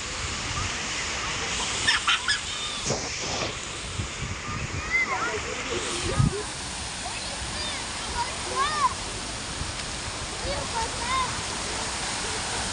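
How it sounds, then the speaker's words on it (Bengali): Continuous rushing and splashing of a fountain fills the scene in Istanbul, Turkey, with birds calling and faint voices nearby. "তো এখানে ঝর্ণার শব্দ"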